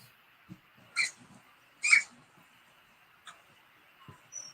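A dog indoors making a few short, faint whimpering yelps and squeaks, spaced irregularly against a quiet background hum.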